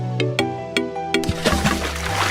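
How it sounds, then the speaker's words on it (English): Water poured in a movie scene: a short liquid pour with sloshing and splashing, preceded by a few sharp tonal clinks or hits over a background music bed, fairly close and moderate in level. "he asked for water and they pour him water."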